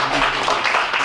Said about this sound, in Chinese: 是不是我们再一次鼓掌两位